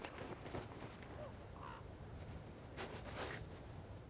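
Ravens calling harshly around an elk carcass left by wolves, a few rough caws rising over a steady outdoor hiss at moderate distance.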